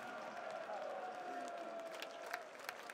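Crowd at the PGL Major Stockholm 2021 CS:GO esports match between G2 and Heroic, with Danish fans on the Heroic side cheering and clapping steadily in the arena, a few sharper peaks of applause near the end.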